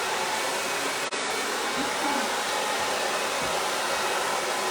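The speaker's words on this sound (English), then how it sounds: "I'm almost done with the blow drying." A hair dryer blows steadily on hair during a salon blow-dry, with a loud, close, continuous rushing roar that dips very briefly once and then carries on unbroken, with no talking.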